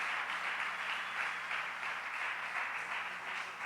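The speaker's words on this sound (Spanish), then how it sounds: "Dele un fuerte aplauso al Señor." A church congregation applauding during a sermon, a steady wash of clapping that stays faint and distant and holds at an even level from start to finish.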